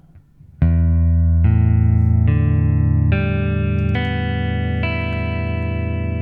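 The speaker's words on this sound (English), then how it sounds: "take all your fingers off the strings and then play each string one by one" Guitar strings are plucked one at a time, six notes in a steady sequence, each ringing on with a slightly distorted electric tone.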